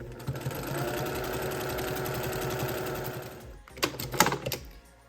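A sewing machine stitching quilt seams along a row, a rapid steady mechanical whirr up close for several seconds, then stopping with a few clicks and handling noises.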